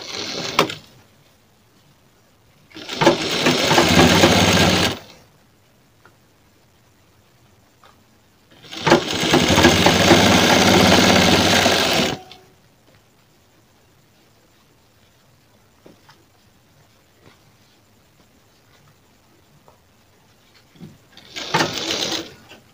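A sewing machine runs stitches along the root of blouse neck piping in two long bursts of several seconds each, with a short run at the start and another at the end, separated by quiet pauses.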